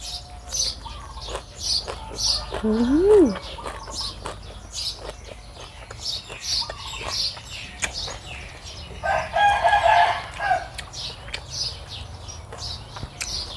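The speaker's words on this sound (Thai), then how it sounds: "ยังไก่บ้านข่อย" A domestic rooster crows and clucks among many chirping birds, with a rising call early on and a stronger crow later, set against a steady low outdoor hum.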